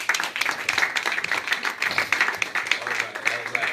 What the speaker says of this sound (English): So let's clap it up for the audience.